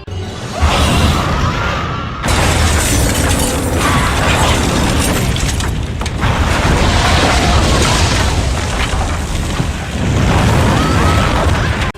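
A loud, sustained rumbling house explosion with crashing debris and mechanical clatter, a sharp break near the start and continuous heavy roaring throughout.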